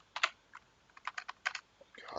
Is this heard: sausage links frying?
no